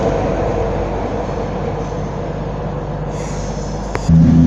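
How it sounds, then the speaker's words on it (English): A CrossCountry unit 221139 at Darlington station, departing for Banbury, rumbles steadily and loudly close by, with a sharper clank and shift in tone near the end. "Next train to depart is a cross-country service to Banbury, and it's 221139."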